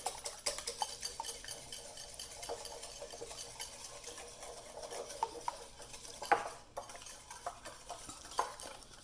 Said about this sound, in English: Going to whisk that egg up all nice.